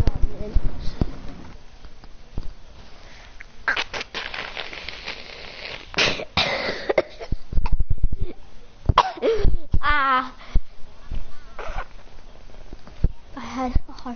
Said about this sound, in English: I was trying to blow my nose and then I started choking.